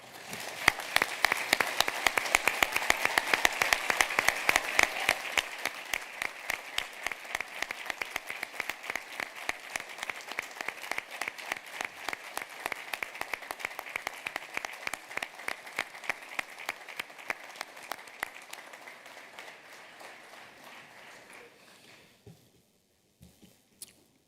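Graduation ceremony audience at a congress hall giving a long round of applause for parents, family and friends, rapid crowd clapping that builds, settles into a steady rhythmic patter, then fades out near the end.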